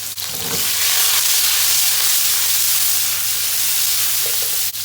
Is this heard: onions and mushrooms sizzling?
yes